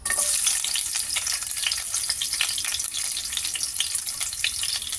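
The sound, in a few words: sautéing potatoes and carrots in a pan for beef caldereta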